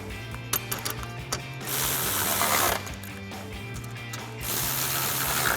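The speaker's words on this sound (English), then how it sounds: "reinstall our 4 10mm screws up top." A ratchet rapidly clicks in several bursts, close and loud, driving 10mm screws that hold the grille on a 2011-2016 Ford Super Duty truck, with a hiss of background noise between strokes.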